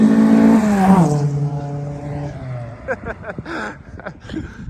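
A Moskvich car drives past outdoors, its engine note loud and close, then falling in pitch as it moves away and fades, with someone talking and laughing afterward.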